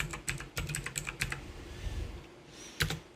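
Someone types a password on a computer keyboard while updating Linux Mint, a quick run of crisp, close key clicks that pauses briefly before one final firm keystroke.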